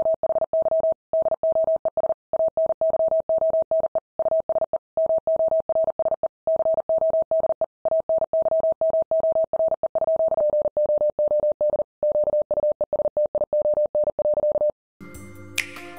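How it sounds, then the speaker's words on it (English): Lighthouse in Wii Sports Resort's Island Flyover flashing a Morse code message as a steady electronic tone, beeping in rapid short and long pulses for about fifteen seconds before a brief different sound at the end. "If you fly near the lighthouse in Island Flyover, the lighthouse will play a Morse code message"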